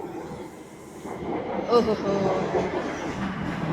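A Delhi Metro train rumbles along with steady rolling noise and a brief metallic squeal partway through, while someone speaks over it.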